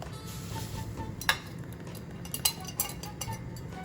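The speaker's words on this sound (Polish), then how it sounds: "Mieszamy do uzyskania gęstej masy budyniowej." A spoon or whisk stirs a flour mixture into boiling milk for pudding in a pot, making soft continuous scraping with a few sharp clinks against the metal.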